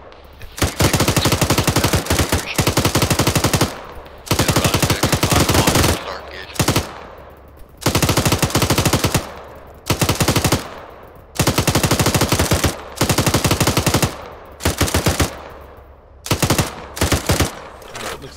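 A belt-fed machine gun fires long, loud rapid bursts in a military-base firefight, each burst several seconds long, separated by short pauses, repeating over and over.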